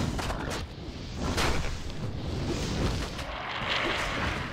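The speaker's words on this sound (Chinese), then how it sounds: "哦，会爆炸哎！" Explosions in the video game Diablo II, played as a Necromancer, boom out as several heavy, rumbling blasts in quick succession that dominate the mix, with no voices over them.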